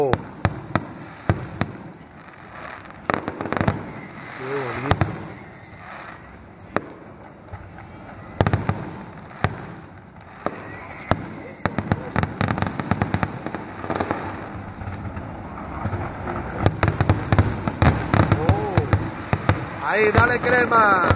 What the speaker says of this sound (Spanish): están tirando fuegos artificiales un poco,